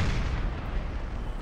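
Artillery fire landing on a Napoleonic battlefield in Napoleon Total War, a continuous rumbling barrage of booms that stays loud and dense from start to finish with no voices.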